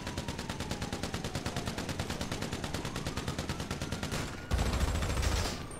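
Rapid automatic gunfire from GTA 5 Online, a steady stream of loud repeated shots with no talking, shifting to a denser, heavier burst near the end.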